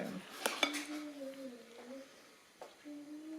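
Dishes, pots and cutlery clatter and clink in a kitchen during washing up after baking, with a few sharp knocks early on and a soft tonal hum running beneath the clatter.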